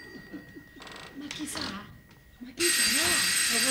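A telephone rings with a loud, continuous electronic bell in a stage comedy, following a stretch of voices.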